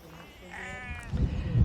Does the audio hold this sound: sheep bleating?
yes